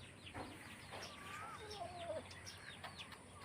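Chickens clucking around a chicken coop, faint and somewhat distant, with a few short calls over a quiet outdoor background.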